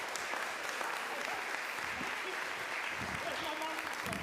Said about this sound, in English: Please keep clapping until I'm at least in the centre of the stage.